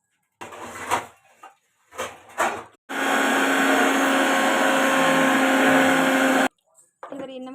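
A mixie mixer grinder grinds beetroot dosa batter in one loud, steady whirring burst of a few seconds, with people talking just before and after.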